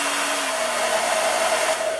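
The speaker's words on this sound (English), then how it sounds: "But this is my blow dryer. I have it plugged up. Works fine." Hair dryer blowing steadily on its low setting for acrylic pour painting, a constant close whooshing drone with a faint motor whine, unchanging throughout.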